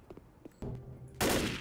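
A short machine gun burst in the zombie shooter Left 4 Dead starts moderately, then swells abruptly into loud, dense firing at close range.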